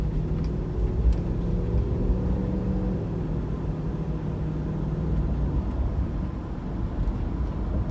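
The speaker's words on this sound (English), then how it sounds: "I'm just gonna accelerate one more time here" A 1999 Jeep Grand Cherokee accelerating on the road at about 40 mph, heard from inside as a steady low engine and road rumble that climbs briefly in the first few seconds, with no talking.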